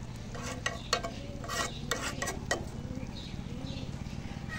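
Food being stirred in a cooking pot, with rhythmic scraping strokes of a spoon against the pot over a low, continuous hum.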